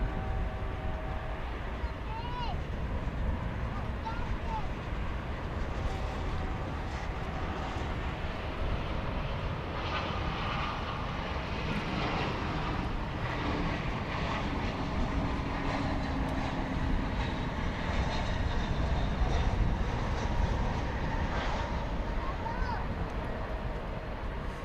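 A Spirit Airlines Airbus A321 on approach to land at DFW airport at night, its engines making a loud, steady roar that fills the whole stretch.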